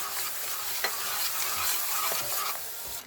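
Spinach with spices stirred in a pan, a steady close sizzle with soft scraping strokes of a spoon running throughout, no voices.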